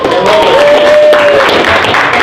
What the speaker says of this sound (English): Let's give a round of applause for Lois.